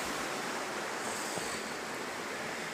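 A flowing creek runs beneath a logging road bridge in the 100 Mile Wilderness, giving a steady, dense rush of water that stays even throughout with no voices.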